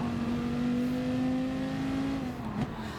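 Dodge Viper Gr.3 race cars at Spa Francorchamps in Gran Turismo give a loud, sustained engine drone at near-steady pitch, which dips briefly with a quick shift toward the end.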